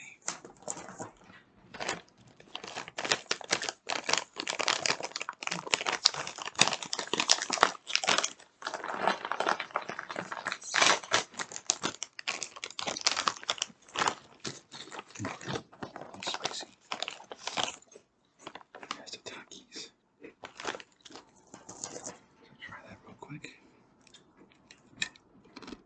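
Crunchy Takis rolled tortilla chips dusted with Diablo hot sauce being bitten and chewed up close, a dense run of sharp, crackling crunches with brief pauses throughout.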